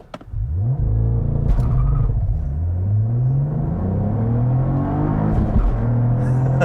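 A 2022 Cadillac CT4-V Blackwing four-door sports car accelerating hard uphill, its engine rumbling loudly as the pitch climbs through gears with brief shift breaks, heard from inside the cabin without talk.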